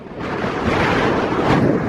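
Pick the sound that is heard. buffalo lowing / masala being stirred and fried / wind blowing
wind blowing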